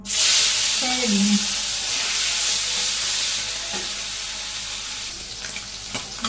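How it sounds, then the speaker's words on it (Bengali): Shing fish fry in a pan with a loud, dense sizzle that starts strong and eases slightly. Faint low voice-like sounds come early, and a few light knocks follow near the end. "মাছ বাজি প্রায় হয়ে গেছে"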